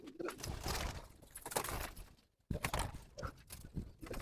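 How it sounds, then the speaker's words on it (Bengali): Pigeons are let out of a cage in the morning, giving a close flurry of wing flaps and fluttering in bursts, with a short break midway and faint cooing. "আপনারা দেখতে পাচ্ছেন যে কবুতর গুলো এখন বের হচ্ছে।"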